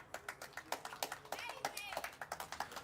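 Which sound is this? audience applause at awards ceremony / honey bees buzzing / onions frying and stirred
audience applause at awards ceremony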